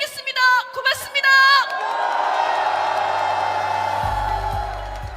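A rally crowd cheers and claps after a political speech, breaking into a broad, sustained roar with whoops and shouts under a few brief tonal sounds at the start, loud and continuous to the end.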